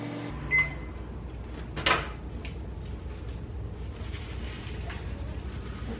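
A microwave oven hums steadily while heating butter for a crepe batter, with a couple of brief clunks early on and no speech.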